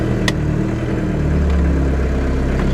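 A 1986 Ford Escort 2.0L diesel engine idling, a close, steady low rumble with even, unchanging revs and a brief click near the start.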